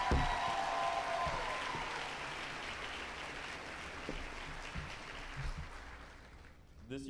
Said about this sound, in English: we can go ahead and give the graduating class a round of applause